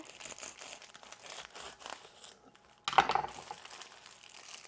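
A serrated knife slices down the center of a rolled, egg-filled wrap, giving a short, close crinkly tearing crunch after a quiet stretch of faint kitchen rustling.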